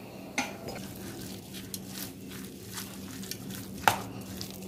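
A spoon works spice mix into mashed potato samosa filling in a bowl, giving soft squishing and scraping with a few sharper clinks of metal against the dish, quiet and close, without any talking.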